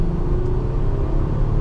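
A 2007 Toyota Avalon Limited pulling away from a standstill, its engine a loud, steady low rumble and whir from inside the cabin, with no voices over it.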